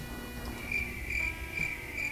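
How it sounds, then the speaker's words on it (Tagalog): Crickets chirp in steady, repeating pulses against a low background rumble beside a road, fairly close and continuous with no one talking. "Maraming kuliglig ako narinig"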